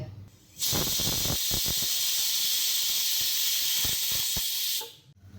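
A pressure cooker vents a loud, steady hiss of steam for about four seconds while boiling fresh green corn on a gas stove, with faint clicks and rattles underneath before it cuts off.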